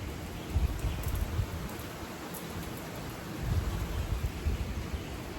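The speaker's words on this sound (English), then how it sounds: "I'm going to show you our rain we got" Steady rain falls outdoors as a continuous broadband hiss, with low rumbling swells that suggest distant thunder, moderately loud throughout and with no voices.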